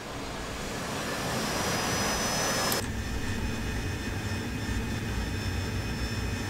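Jet engine of an AV-8B Harrier in DCS World throttled to full power, a loud steady roar with a whining high tone that shifts abruptly midway, continuous and close with no talking.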